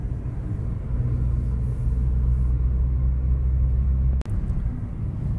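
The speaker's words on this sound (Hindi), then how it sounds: "The car is asking for fourth gear." A Ford Freestyle petrol car engine pulling uphill in third gear on a high mountain pass road, a steady loud low drone and rumble heard from inside the cabin, with one brief dropout near the end.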